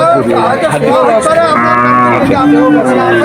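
A cow moos loudly and close by at a cattle market in Satkhira, Bangladesh, in a long, drawn-out low call, with a faint murmur of people in the background.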